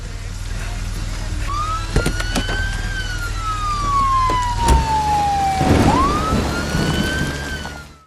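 A police car siren in the video game Friday the 13th, a loud wailing tone that rises and falls in long sweeps over a low engine hum, with a few sharp clanks.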